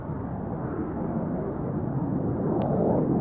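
Red Arrows jets in a flying display at an air day, their engines producing a steady, broad low roar that swells slightly toward the end, with a brief sharp crack near the close.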